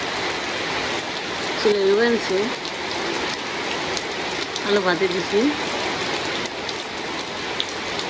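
Heavy monsoon rain pours steadily on a village home, a loud continuous hiss of drops, while someone speaks briefly over it.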